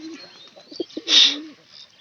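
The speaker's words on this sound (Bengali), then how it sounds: "এই যে আমার পায়রা আসছে" Newly released pigeons coo softly nearby as they come out to feed, a few low, throaty coos with a brief brighter burst midway, fairly quiet against a calm background.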